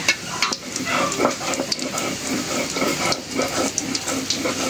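Dried chilies frying in hot oil in a home kitchen, a steady close sizzle and crackle with stirring scrapes running throughout, no talk over it.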